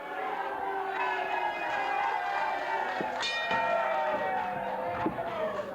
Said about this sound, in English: The crowd is noisy, and that's normal when Bulldog Bob Brown gets into a ring. A lot of barking, a lot of booing